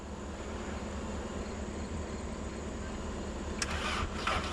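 A Volkswagen Jetta's engine runs at a low, steady rumble for several seconds, fairly quiet and close, with a brief rise and some clatter near the end.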